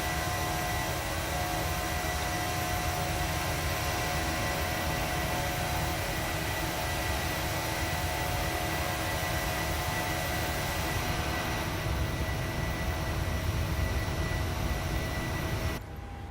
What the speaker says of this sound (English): And there's Duq, just taxiing there